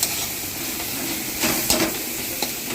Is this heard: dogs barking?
no